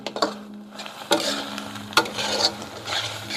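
A spoon scrapes and stirs bottle gourd halwa, thick with reduced milk and ghee, in a pan. Rhythmic rubbing strokes with a few firm knocks sit over a light sizzle, close and clear, with no voices.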